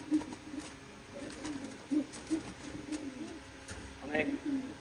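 A pigeon coos in short, soft, repeated throaty bursts at close range, faint against a quiet background, with a few brief rustles and no voices.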